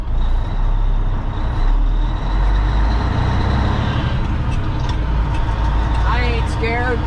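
A heavily loaded truck engine labors with a deep, steady rumble and a strained groan under load, close and loud, with a brief squealing whine near the end; voices talk briefly over it.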